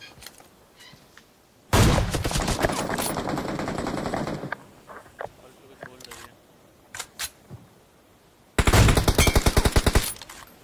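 Gunfire rings out in the video game PUBG: two long, loud bursts of rapid automatic fire, separated by scattered lighter clicks and sounds. A voice is briefly heard.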